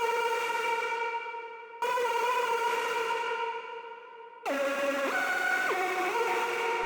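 Spooky synth line run through a distorted lab filter, EQ and heavy Valhalla Vintage reverb, three sustained droning phrases with long washy tails, the last one stepping between pitches, loud and alone.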